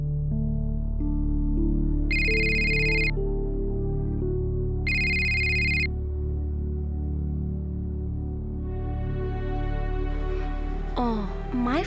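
A mobile phone ringtone rings unanswered during a domestic scene in an Assamese TV drama, with two distinct bursts of bright electronic ringing rising over a continuous backdrop of background music.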